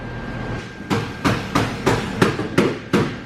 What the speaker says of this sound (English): Phil, what are you doing over there with that hammer? Trying to clean the false firewall up.